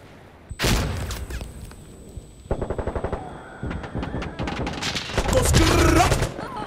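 Gunfire in the tactical shooter Insurgency Sandstorm, loud close rifle shots in a burst, then a rapid rhythmic string of rounds and further sustained firing, with distant game ambience between.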